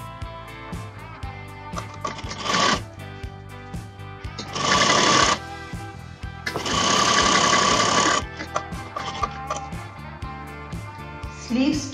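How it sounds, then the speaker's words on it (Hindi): Sewing machine joining the sleeves of an off-shoulder raglan top, running in three loud bursts of steady stitching between quieter pauses. "अब हम स्टिचिंग में सबसे पहले इन स्लीव्स को राइट टू राइट मैच करके ज्वाइंट करेंगे"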